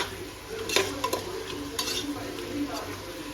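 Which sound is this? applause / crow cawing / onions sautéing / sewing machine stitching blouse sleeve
onions sautéing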